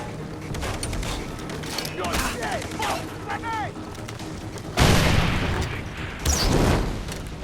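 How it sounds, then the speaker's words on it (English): Explosions and gunfire from the video game Far Cry 3: a dense, busy mix of battle noise with two heavy booming blasts in the later half, over a constant game soundscape with voices mixed in. "Stealthy explosions"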